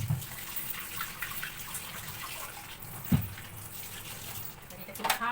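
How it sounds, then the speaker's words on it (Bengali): Chopped vegetables that were soaked in hot water are rubbed and washed by hand, giving a steady close-up sloshing and splashing of water with a sharper splash near the middle and more churning toward the end. "এটাকে ভালো করে কচলে কচলে জলে ধুয়ে নিয়ে ঝুড়িতে ঢেলে দেবো।"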